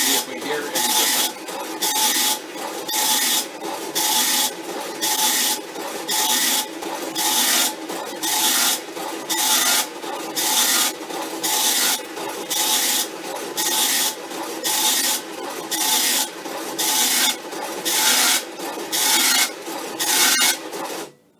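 A Commodore PET driving a vintage tractor-feed printer prints a repeated character string, each line a loud rasping burst of the print head, in a steady rhythm of about twenty bursts with short gaps between them.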